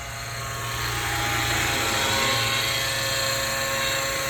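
A steady, loud drone from a scale-model Seahawk navy helicopter, engine and rotor with a high whine on top, continuous and close.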